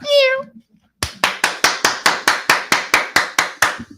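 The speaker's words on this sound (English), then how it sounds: "I've never seen somebody clap for themselves" One person claps for themselves in a studio during a sports talk show, about fourteen sharp, close, evenly spaced claps following a brief squeaky vocal sound and a pause.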